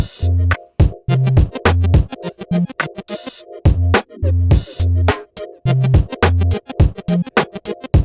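A punchy electronic beat with kick and snare, layered chords and quick arpeggiated synth notes, playing loud and steady with brief pauses in the rhythm.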